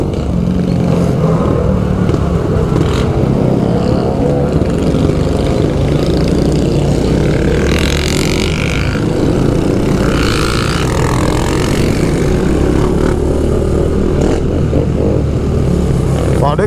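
A motorcycle engine roars loudly and steadily throughout, with a couple of rising revs partway through.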